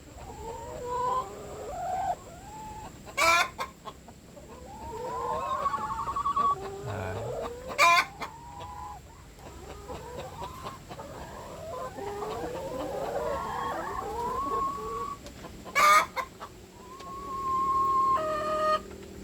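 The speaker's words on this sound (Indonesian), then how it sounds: "Jadi beginilah suasana keadaan ayam saya" Laying hens cluck and squawk inside a chicken coop, overlapping calls rising and falling continuously, with a few sharp, loud bursts and a longer drawn-out cackle near the end.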